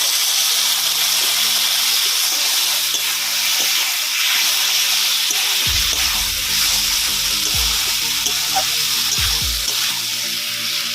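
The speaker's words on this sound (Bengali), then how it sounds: "সামান্য একটু জল দিলাম।" Water splashed into a pan of frying potatoes and pointed gourd for a village-style rohu fish curry, hot oil hissing and sizzling steadily with sharp bursts of steam and bubbling as the water hits, close and loud, no talking.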